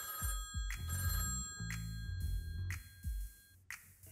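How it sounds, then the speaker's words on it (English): A telephone bell rings in repeated bursts, loud and close, with a steady bed of background music underneath. "Is that the phone?"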